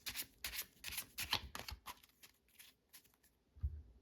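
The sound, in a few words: overhand shuffle of a deck of playing cards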